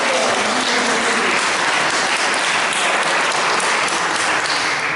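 Audience applause for the artist Enrique Marine at a twinned-towns meeting in Auxerre, a dense, steady wash of many hands clapping loudly and continuously, with no voices breaking through.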